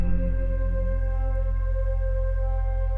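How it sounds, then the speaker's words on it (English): Sampled voice bass synth patch: a deep, loud sustained bass tone with a strong low fundamental and clear harmonic overtones, a brief vocal-like wobble at the start, then holding steady alone. "It is a bass sound. It is a sampled bass sound."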